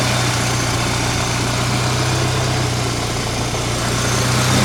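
A 1984 Dodge Rampage with a fuel-injected engine idles steadily close by, a low constant hum and drone holding even throughout with no variation.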